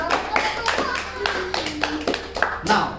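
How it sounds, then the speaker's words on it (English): Scattered, irregular hand claps in a lively teaching session, each a sharp slap mixed in among a speaking voice that runs throughout. "Clap."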